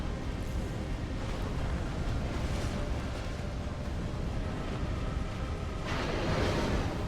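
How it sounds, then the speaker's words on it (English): Deep, sustained rumbling blast from a Dark Souls 2 boss fight, a continuous roar filling the whole stretch with a brighter surge near the end, loud and close with no talk over it. "Okay, so the explosion follows the jump now."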